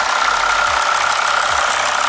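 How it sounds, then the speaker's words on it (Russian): A Mercedes ML W163 engine idles at a steady, even pace, a continuous close mechanical hum with light rhythmic knocking and no talk over it. "Кстати, так ровно не работал мотор."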